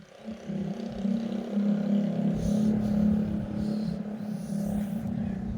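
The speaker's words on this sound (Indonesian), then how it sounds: "Ini ada suara motor nih." A steady, low engine rumble drones on throughout, like a motorbike idling or passing nearby, with no talking.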